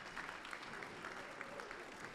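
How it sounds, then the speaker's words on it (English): An audience at a city State of the City event in Lomita, honoring the Chamber and city staff, gives a steady round of clapping, faint and somewhat distant, an even patter of many hands throughout. "let's get another round of applause for the Chamber and city staff"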